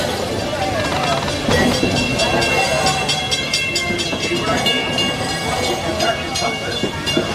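The Magic Kingdom railroad train rolling through Adventureland, a steady rumble with rhythmic clacking of wheels over rail joints under continuous talk.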